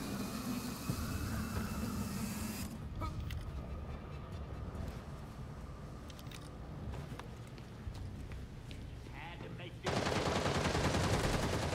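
Gunfire in the superhero action game Gotham Knights, a dense run of shots and bursts at moderate level under a steady game soundscape that drops quieter midway, then swells louder again near the end.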